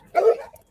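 A single dog bark sounds close and fairly loud during an outdoor neighborhood walk, with a short, softer trailing yip just after it.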